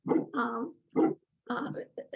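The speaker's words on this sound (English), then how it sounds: "I'm sorry if my dog is barking in behind." A dog barks several times in the background, in short muffled bursts with gaps between them, somewhat distant and fairly faint.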